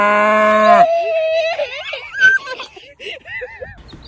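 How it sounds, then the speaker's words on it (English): A loud, drawn-out moo that matches a cow opens the sound, followed by giggling and lively chatter from people nearby. "How's the cow go, Olin?"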